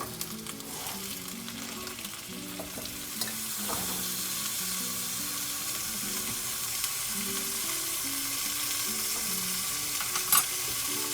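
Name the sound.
meat browning and sizzling in a pot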